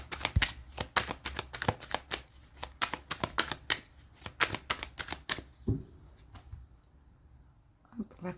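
Tarot card deck being shuffled and cut, a run of quick crisp riffling slaps in an irregular rhythm, close and fairly quiet, fading out before a final soft tap.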